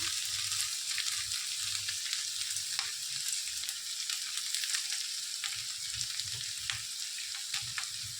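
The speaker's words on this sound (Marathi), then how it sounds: "मस्त भाजायला आल्या भेंडी आपली" Okra (bhendi) fries and roasts in an open pan with a steady, bright sizzle, broken by soft scraping thumps as it is stirred, and no talking.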